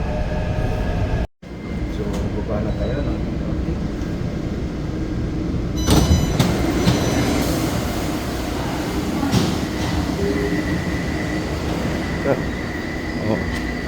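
A metro train rumbles loudly and steadily at an MRT station in Taiwan, with a door sliding and mechanical clanks partway through and faint voices underneath.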